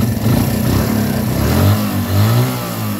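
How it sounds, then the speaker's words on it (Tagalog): A Thunder 125 motorcycle engine runs steadily up close, its low rumble rising and falling slightly as it idles and revs gently, with no voices. "tingnan nyo naman kung gaano kaganda makina nito"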